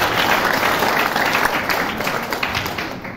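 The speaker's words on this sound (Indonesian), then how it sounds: "tepuk tangan lagi nih" An audience at a health talk about honey claps loudly at first, then the applause slowly tapers off over a few seconds, with no voices over it.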